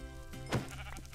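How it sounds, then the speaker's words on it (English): A sheep bleats once in the Minecraft video game, a short wavering cry over a steady humming game background, close and moderately loud. "I need to kill all these sheep because I need the food"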